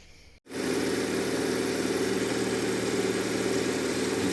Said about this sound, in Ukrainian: Ось так працює двигун, як, як укопаний.